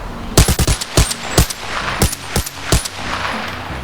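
Gunfire from a weapon fitted with a Nomad suppressor in the VR shooter Ghosts of Tabor, with a quick burst of five sharp, loud shots followed by several spaced single shots, close and punchy, no talking.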